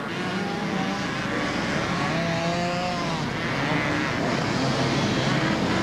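Racing bikes and quads on a sandy beach race course at Southport in 1992, engines droning and whining steadily as they pass at middle distance, with faint voices mixed into the roar.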